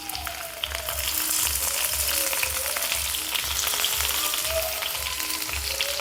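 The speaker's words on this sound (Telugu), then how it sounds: "ఆయిల్లోకి కట్ చేసిన ఉల్లిపాయలు అలాగే కరివేపాకు వేసుకుందాం." Chopped onions and curry leaves fry in hot oil for ridge gourd and chana dal curry, giving a steady close sizzle and crackle throughout with faint low knocks, and no talking.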